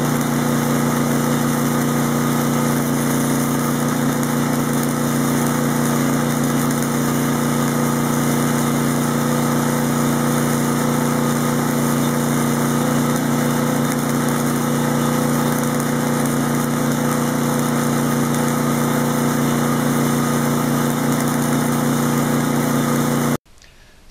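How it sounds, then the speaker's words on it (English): A generator engine runs continuously near a flux-core MIG welding job, a steady droning hum with slight RPM wavering for over twenty seconds before cutting off abruptly at the end, with no voices. "I'm not getting a consistent arc as the generator RPM is fluctuating."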